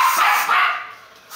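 A dog barks in a short, close burst of two quick yips.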